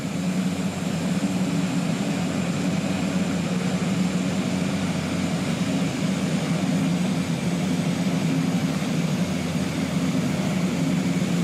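Mitsubishi MU-2 turboprop engines throttled up in Microsoft Flight Simulator, a steady loud droning whine with a low rumbling hum throughout, constant and unbroken, no talking.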